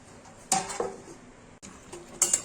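Red Bengali chicken curry is stirred in a pot, with a few distinct metallic clinks and scrapes of a spoon against the rim over a faint background, and no talking.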